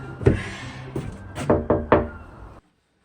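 Five sharp knocks on a wooden door, a single rap then a quicker group of four, close by, followed by silence.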